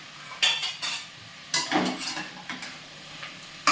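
A metal spoon stirs and scrapes vegetables frying in oil in a pan for vegetable biryani, giving a run of irregular clinks and scrapes over a faint sizzle.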